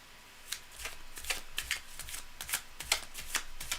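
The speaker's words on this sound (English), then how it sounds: "Cards are very nicely shuffled." Tarot cards are shuffled by hand in a series of quick, crisp riffles and flicks, close and fairly quiet, with no talking.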